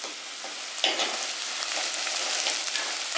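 Onions with curry leaves sizzle and crackle steadily in hot oil as they are stirred, a continuous close frying hiss with small scraping bursts from the spoon, no voices.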